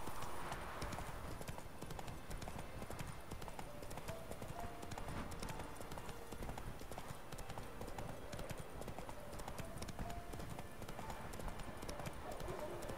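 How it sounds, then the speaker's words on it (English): Rapid, rhythmic hoofbeats of a galloping horse in the video game The Witcher 3 pound steadily throughout, close and continuous, with a brief whinny-like sound near the start. "Get on the damn horse."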